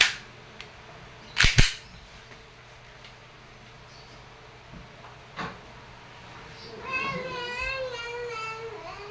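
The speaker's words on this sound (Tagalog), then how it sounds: "Okay, Sir Bernardo, shooting test tayo ng inyong unit. Again, this is the ENC Glock 34 John Wick." An E&C Glock 34 John Wick airsoft pistol fires a quick pair of sharp snapping shots, followed a few seconds later by one more fainter shot, in an otherwise quiet room.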